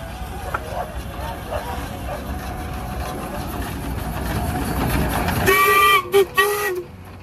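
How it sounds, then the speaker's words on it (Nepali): A train pulls in at Batasia Loop in Darjeeling, a rumbling approach that grows louder, then several sharp whistle blasts close by; voices talk faintly over the rumble. "लु ट्रेन आयो"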